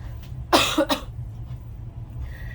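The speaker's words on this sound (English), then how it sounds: "So I got a cough." A single close, sharp cough with a quick second burst, then quiet room noise.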